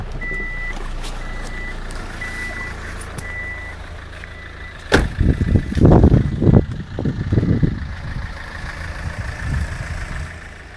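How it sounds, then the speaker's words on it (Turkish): Car seatbelt warning chime sounding as a series of evenly spaced beeps over a quiet idling engine, then masked by a burst of louder rumbling and handling noise inside the car. "Bu duyduğunuz ses emniyet kemeri sesidir."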